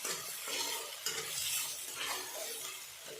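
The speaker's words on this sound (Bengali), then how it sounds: "এখানে আমি আরও কিছুটা নাড়াচাড়া করে নেব।" A spoon stirs thick masala that has cooked down until the oil separates in a pan, making soft scraping and gentle sizzling in a continuous, fairly quiet stream.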